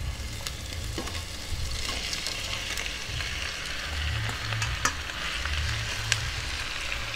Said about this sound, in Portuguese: eu irei botar logo os camarões para ir soltando o gosto junto com os temperos